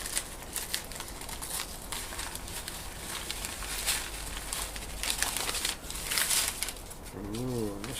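A parcel of cacti being ripped open, with crinkling, rustling packaging heard close up in irregular bursts for several seconds.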